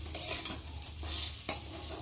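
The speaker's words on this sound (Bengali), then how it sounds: "ভাজা হয়ে গেছে চালটা বেশ ভালো" Rice for pulao sizzles in a pan while a spoon stirs it, producing a continuous close hiss broken by repeated scraping strokes, with no talking.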